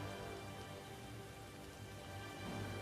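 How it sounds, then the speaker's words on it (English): Steady rain falls on a battlefield in Total War: Rome II, a constant dense hiss with no talk over it. "It's raining."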